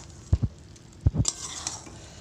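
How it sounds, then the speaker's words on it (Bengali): Soybean chunks and spices are fried down in a pan, with a few sharp knocks and scrapes of a spatula against the metal and a brief burst of sizzling, close and fairly quiet. "এবারে খুব ভালো করে কষে নেবো"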